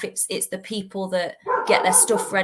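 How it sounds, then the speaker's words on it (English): A pet dog barks in a home during a conversation about a women's football match, with a few short yaps mixed in under steady talking voices. "That's my dog, sorry."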